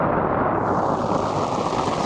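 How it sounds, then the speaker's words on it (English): Rain falling steadily on a backcountry camp during a summer storm on a Colorado route, a dense continuous hiss that stays loud and even throughout. "For the second day in a row, we're getting rained on."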